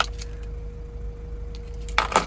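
Van keys, two sets, jangling and clinking in a short burst near the end, close and fairly loud after a quiet background hum.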